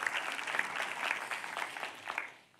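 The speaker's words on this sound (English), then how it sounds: "just give them a big round of applause" A church audience gives the service team a big round of applause, dense and fairly loud clapping from many hands that carries on evenly, then fades away at the end.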